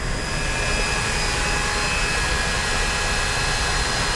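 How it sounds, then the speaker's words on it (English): A Royal Master Grinders cutting machine runs steadily, driven by a dual-carriage linear motor with servo-driven spindles, producing a continuous loud mechanical whine and hum with high tonal lines, uninterrupted and without voices. "Our machine is powered by a dual carriage linear motor that runs across the back of the machine"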